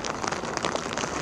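Heavy, steady rain driven by strong wind in Isabela ahead of a typhoon, a dense continuous hiss of downpour with gusty buffeting, loud and close throughout.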